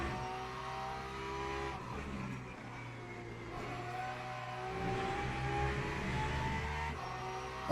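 A Porsche race car engine in Le Mans Ultimate howls loud and close, its pitch rising through the gears and falling under braking before climbing again, with no talking over it.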